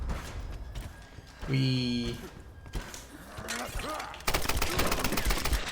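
Gunfire in a first-person shooter game, with a loud burst of rapid shots near the end after scattered game sounds and a musical stinger, under someone talking.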